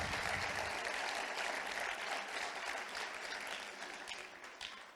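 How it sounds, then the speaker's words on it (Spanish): Audience applause at a municipal sports gala in Canet d'en Berenguer, a steady wash of clapping from a crowd heard at some distance, fairly quiet and continuous throughout. "Por eso pido un aplauso para ella."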